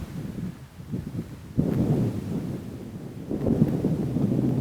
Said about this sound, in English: it's just quiet out here, except for the wind. You can hear the wind.